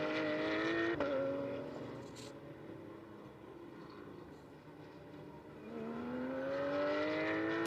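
A Super Trofeo race car sweeps past on the Paul Ricard circuit during a GT endurance race. The engine tone drops as it passes close by, fades to a distant drone and then rises again as another car approaches.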